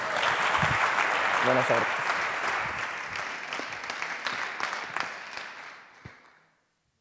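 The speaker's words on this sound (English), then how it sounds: "let's give a big applause, a warm welcome" Loud applause from an audience at a live gala fills the room, steady at first and then tapering off to silence, with a brief spoken greeting near the start.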